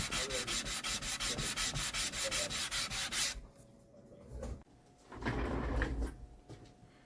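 Rhythmic back-and-forth sanding strokes on a 1966 Thunderbird guitar headstock, close and steady for a few seconds, then slower, irregular rubbing and scraping.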